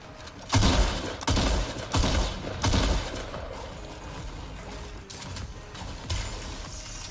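Shockwave grenade launcher shots in the Fortnite video game: several loud, blasting bursts in quick succession, each a broad crash that fades, followed by softer, more distant impacts.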